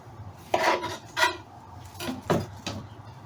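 A kitchen knife chops the ends off small, thin pickling cucumbers on a board, giving four or five separate crisp cuts at an uneven pace, close by and clear with no voices.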